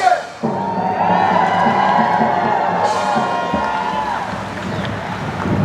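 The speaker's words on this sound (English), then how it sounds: "A cheer for Logan!" A crowd at a Renaissance festival joust cheers loudly and continuously, a close, dense wash of shouting and whooping voices that swells and eases over several seconds.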